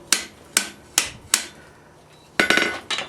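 A hammer strikes a hot steel corner on an anvil with four evenly spaced, sharp ringing blows, then a short pause and a quick double strike.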